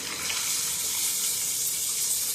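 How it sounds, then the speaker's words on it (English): Water pours steadily from a faucet in a continuous hissing rush, close and unbroken throughout. "You can hear the water."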